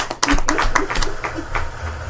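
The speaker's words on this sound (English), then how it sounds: "We got the claps." A small show audience claps, a scattered patter of hand claps rising and thinning out over a couple of seconds, close and moderately loud.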